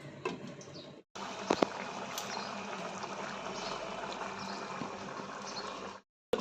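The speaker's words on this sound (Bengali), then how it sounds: "আলুটা সিদ্ধ হচ্ছে ঢাকা দিয়ে দিলাম" Potatoes boiling in water in a covered pot give off a steady, soft bubbling and hissing that runs on without a break, faint and close, with a brief clunk near the start.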